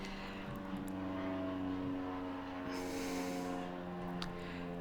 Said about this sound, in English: it's like now we have a plane overhead.